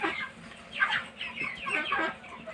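Cobb 500 broiler hens clucking close by in a coop after laying, a string of quick clucks and squawks rising and falling, loud and alone.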